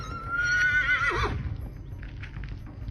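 A horse on a ranch lets out one loud, close whinny that wavers and drops away after about a second, followed by quiet outdoor ambience.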